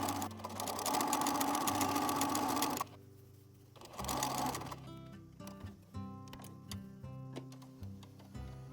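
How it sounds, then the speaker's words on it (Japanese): A home sewing machine runs long basting stitches for gathering lines on dress skirt fabric, a fast steady mechanical whir in two bursts with a brief pause, followed by ticking clicks and handling noises. "7mm と 5mm の位置にギャザー寄せミシンをかけます。"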